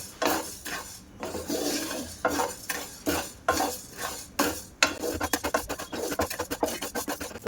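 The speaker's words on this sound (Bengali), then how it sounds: "এই চালটা আমি হালকা ভাজা করে নেব।" Raw rice dry-fried and stirred with a utensil in a frying pan, giving repeated scraping and rattling strokes in bursts, speeding into quick rhythmic scrapes near the end, close and clear with no talking.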